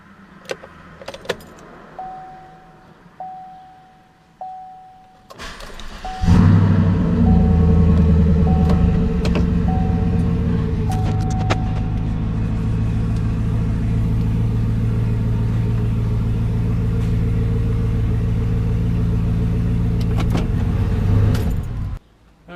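A 2016 Chevrolet Silverado pickup rolls down off service ramps: a brief jingle of keys first, then the engine starts and a loud, steady close-up rumble carries on for about sixteen seconds before cutting off.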